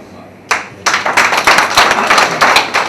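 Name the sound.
applause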